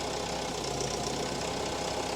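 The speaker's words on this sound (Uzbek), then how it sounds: "Qaranglar aka motorni, Yuchay motor." A steady, droning Yuchai diesel excavator engine runs at idle with a continuous knocking rumble and mechanical vibration, close and unchanging throughout.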